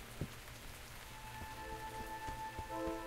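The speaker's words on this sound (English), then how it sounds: "Whoa, the rain is quickly getting worse." Steady rain falling in the video game Dyscourse, a dense continuous patter with a few louder drops and faint tonal hum beneath, no voices.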